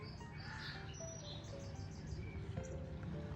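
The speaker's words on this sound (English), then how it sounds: "Song sparrows bidding us a fair adieu and more." Song sparrows singing outdoors in New England, bright chirps and trills repeating through the clip at moderate distance over a steady low background hum.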